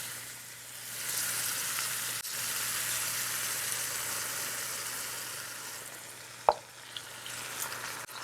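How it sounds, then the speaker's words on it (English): Balsamic vinegar sizzles and reduces in a pan with pork sirloin, a steady hissing fry that swells and holds, broken by one sharp clack near the end, no speech. "add the balsamic vinegar first and let it cook down just a little bit"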